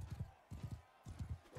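Horse hooves clip-clop in steady repeating bursts of quick footfalls in Mount & Blade II: Bannerlord, fairly close and moderately loud, with no talking over them.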